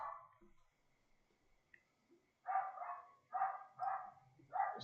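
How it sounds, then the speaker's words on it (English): Next-door dogs bark at night in bursts of several sharp, fairly distant barks. A quieter spell falls between an early bark and a later run of four or five barks. "apologies for noise. A little earlier than normal for me, and next door's dogs are still up and running about."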